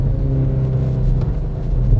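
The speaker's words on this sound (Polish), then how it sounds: "Ale w ogóle jestem zdziwiony, że to auto jest takie głośne" Cupra Ateca with an ABT power upgrade to 350 hp and 450 Nm revs loudly, a heavy, steady engine rumble filling the whole stretch without letup.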